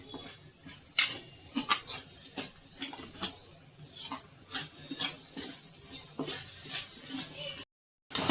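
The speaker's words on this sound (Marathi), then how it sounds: "मसाला आपल्याला एक 5 मिनिटं तरी आपल्याला परतावं लागेल" Masala roasting in oil on a high flame for a Marathwada khandavdi bhaji curry, soft continuous sizzling broken by repeated scraping and clinks of a spoon against the pan, then a brief cut to silence.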